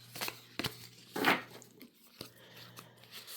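Oracle cards are shuffled by hand, giving faint, soft papery riffles and crinkles in a few short bursts against a quiet background.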